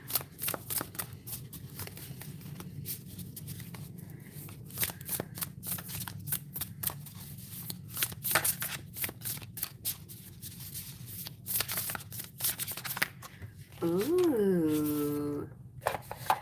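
A deck of tarot cards is shuffled in steady riffling bursts close by, the flicks continuing through the clip, with a brief sung or hummed voice near the end.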